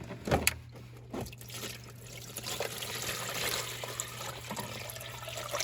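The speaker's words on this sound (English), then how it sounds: "we're just gonna pour everything into this bucket" Water with baby catfish, leaves and snails being poured from a container into a bucket, a steady splashing pour close by with a brief louder gush near the start.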